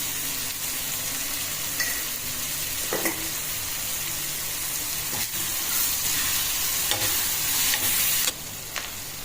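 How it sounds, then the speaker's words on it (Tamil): Onions sauté in a hot pan for a green chilli curry, giving a steady bright sizzle and hiss with a few sharp stirring scrapes, close and unbroken with no talking. "வெங்காயம் நல்லா பாதி வதங்கிடுதுங்க."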